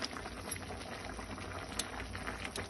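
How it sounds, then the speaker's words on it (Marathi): Sliced potato chips for fasting boil in a pot of water, a steady close rolling bubble with a constant dense texture and no voices. "आता या चिपला एक दोन उकळण्या उकळ्या येऊ द्यायच्या आपल्याला"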